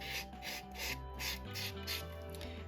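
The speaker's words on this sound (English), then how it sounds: "I just buff round just to make sure there's no flaky bits still adhered to the nail plate" Nail buffer rubbed over the natural nail plate during manicure prep for gel, a steady soft rasping rub in repeated one-direction strokes, close and fairly quiet, with no talking.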